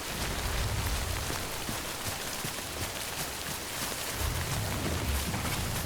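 Steady rain falls in the Death Stranding video game, a dense, continuous hiss of drops on surfaces with low rumbling swells near the start and end, no voices over it.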